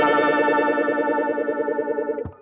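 An electric guitar chord rings through an MXR Phase 90 phaser pedal with the speed at maximum, a rapidly warbling, swirling sustained tone that decays and ends with a short thump.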